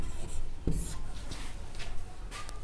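A pen writing Hindi script on paper, close, soft scratching strokes in short bursts with brief pauses, quiet and without speech over it.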